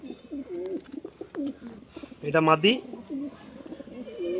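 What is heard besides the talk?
pigeons cooing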